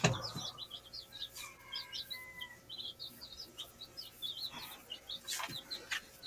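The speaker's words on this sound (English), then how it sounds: "Got sapphire chicks down there and a brooder in my shed now." Sapphire chicks chirp repeatedly in a brooder inside a shed, a busy stream of high peeps close by with faint background hum.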